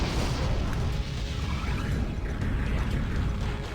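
Heavy, continuous booming rumble of explosions in the dark-fantasy game Hexen, thick and sustained with no pauses for the whole stretch.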